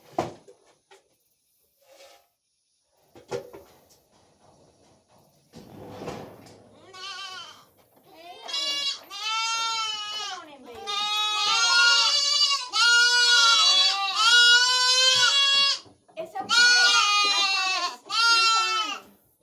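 Dairy goat kids bleat loudly in repeated, overlapping cries that build from scattered calls into a near-continuous chorus close by.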